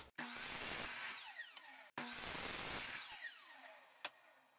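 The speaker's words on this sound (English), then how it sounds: "I'm going to cut these off with using my miter saw" Two loud, whining passes of a miter saw cutting wood blocks for a carpenter bee trap, each a sustained buzzing cut separated by a brief pause, followed by a faint clack as the blade winds down.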